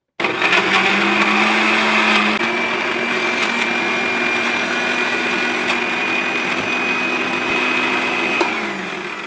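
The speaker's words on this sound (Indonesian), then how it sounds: "Pemirsa bisa menghaluskan menggunakan blender atau bisa diulek." An electric blender whirs steadily, grinding a spice paste with a little added water for chicken satay, a loud, even motor whine that runs nearly the whole time before winding down at the end.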